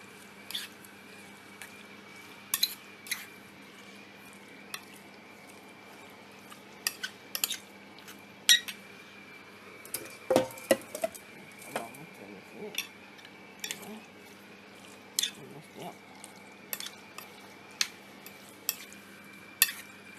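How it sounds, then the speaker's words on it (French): Flour being stirred into milk for a béchamel base, producing faint, irregular scraping and light utensil clinks against a bowl, scattered throughout with a steady low hum underneath and no talking. "je vais mélanger la farine dans du lait et je vais le diluer après"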